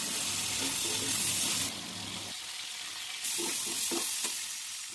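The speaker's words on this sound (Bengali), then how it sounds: "প্রথমে কড়াই তেল দিয়ে পটলটাকে ভালো করে নুন হলুদ দিয়ে ভেজে নেব।" Pointed gourd pieces fry in oil with salt and turmeric in a wok, making a close, steady hiss that drops and then returns. A few soft stirring scrapes come through near the end.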